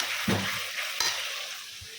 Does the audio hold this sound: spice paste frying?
yes